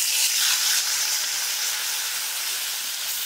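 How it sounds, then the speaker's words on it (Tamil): Chopped tomatoes, green chillies and curry leaves sauté in a pan, giving a steady, loud sizzling hiss that runs unbroken throughout with no voices over it. "இப்போ இது கூட ரெண்டு தக்காளி பொடிசாக கட் பண்ணி சேர்த்துக்கோங்க."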